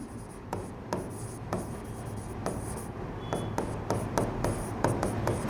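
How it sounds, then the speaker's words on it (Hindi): Pen writing on notebook paper, a close, steady scratching with quick repeated strokes and short lifts, alone without speech. "तो ये आप नाम यहाँ पे लिखेंगे कि विजया लक्ष्मी पंडित जो थी"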